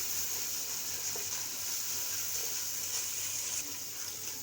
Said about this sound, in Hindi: लो टू मीडियम फ्लेम पर इसको फ्राई कर लेना है, भून लेना है अच्छे से